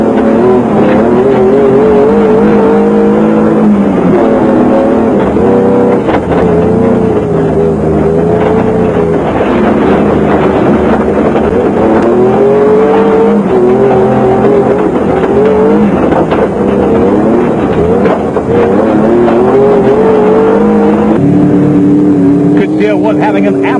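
A Jeep Cherokee rally car driven hard through mud on an off-road stage, its engine roaring loud and continuous with rising and falling revs throughout, while a voice talks over it.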